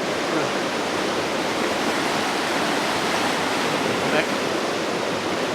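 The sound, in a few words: river flowing next to the bank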